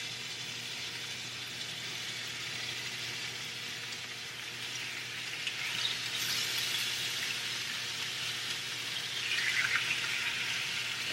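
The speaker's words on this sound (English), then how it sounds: "that's what I like to hear, that sizzle, sizzle." Meat sizzles loudly in a hot skillet while breakfast burrito filling cooks, a continuous close hiss and crackle that swells slightly toward the end.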